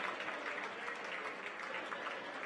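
Steady applause fills an evening room during a Seminole Boosters showcase event, a faint, continuous patter of clapping heard at a distance without interruption.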